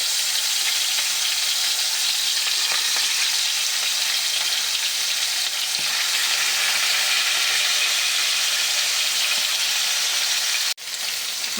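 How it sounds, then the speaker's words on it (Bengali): Bhetki fish pieces fry in hot oil, giving a loud, steady, dense sizzle that stays even from start to finish, broken only by a brief faint click near the end. "তেল গরম হয়ে গেছে, আমি কানসাগুলো আগে ভেজে নেব।"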